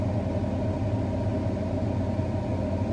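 A forage harvester's knife drum and shear bar run in an alfalfa field, giving a steady, unbroken mechanical drone with a low rumble and no talking.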